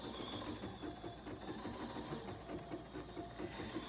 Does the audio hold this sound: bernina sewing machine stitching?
yes